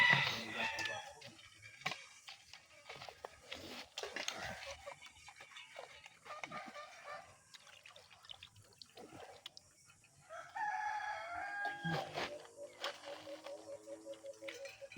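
A rooster crows in the background of a quiet outdoor meal setting, faint and distant, with clucking, scattered clatter and soft talk around it.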